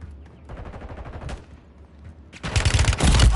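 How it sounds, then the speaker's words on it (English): Bursts of rapid automatic gunfire in a squad video game shootout, a dense loud volley building in the second half after quieter scattered shots, with no talk over it. "Under fire."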